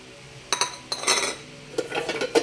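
Pet food bowls clink and clatter while cats' food is prepared, several short close knocks and rattles in bursts with quiet gaps between them, no voices.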